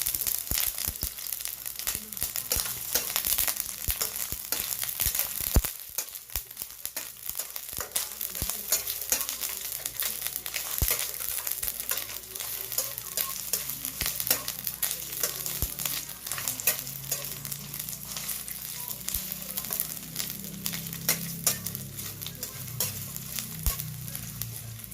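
Onion sizzles in cooking oil and is stirred for a Filipino eel and stingray fish stew, a dense close crackle with frequent scraping stirs running the whole time without speech.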